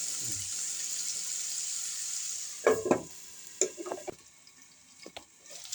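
Potatoes and okra sautéing in a covered pan on a stove, a steady soft sizzle with a few scraping stirs and clatters midway, fairly faint and without talk.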